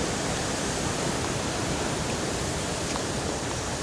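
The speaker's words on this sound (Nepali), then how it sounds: "हेर्नुहोस् अति कञ्चन पानी बगिरहेछ हाँडी खोलाको" Clear water of the Handi Khola, a small mountain stream, rushes steadily in a close, continuous broadband gurgle and hiss, with no voices over it.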